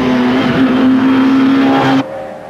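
Peugeot 205 rally car at speed on a rally stage, its engine holding a steady loud drone that cuts off suddenly into quieter road noise as it passes.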